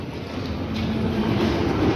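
Steady rumbling of a small playground ride-on train running along its track, continuous and fairly loud with a faint rattling, no voices.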